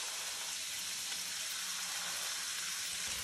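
Vegetables for pad thai sizzle steadily in a hot wok, a dense, even hiss with faint crackle throughout, close and alone with no voices.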